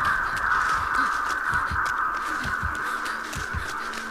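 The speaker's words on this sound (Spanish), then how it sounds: "No vuelen pájaros, please." Crows caw repeatedly in the Dead by Daylight video game, several harsh calls spread across a steady wash of ambient game sound, with no talking.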